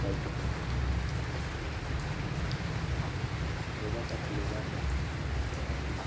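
Steady rain falls outdoors during evening visits to Durga Puja pandals, a constant even patter and wash of drops with a voice murmuring underneath.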